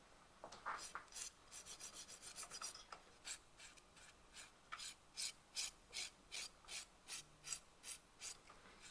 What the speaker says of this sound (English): I'm just going to file over with 100 grit